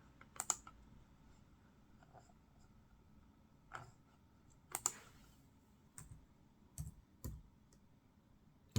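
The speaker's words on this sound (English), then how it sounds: "So let's just double click this." Light plastic clicks from a mouse used with an eeePC netbook running Windows, a few isolated taps and a quick double click, close and quiet over faint room hum.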